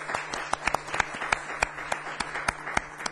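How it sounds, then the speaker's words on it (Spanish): Audience at a 2007 film festival event in Gijón applauding a guest, a moderate steady patter of many hands clapping, fairly distant, with no talk. "Me gustaría pediros un aplauso para nuestro invitado por ser tan amable."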